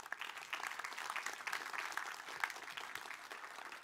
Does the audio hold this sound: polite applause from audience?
yes